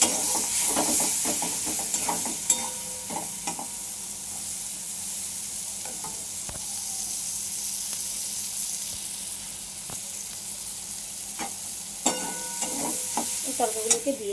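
Spices sizzle and hiss in a hot pan as they are stir-fried, with a steady frying crackle and occasional clinks of a spatula, close and loud with no talking.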